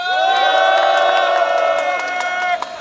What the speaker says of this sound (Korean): 동지들에게 힘찬 박수와 함성 부탁드리겠습니다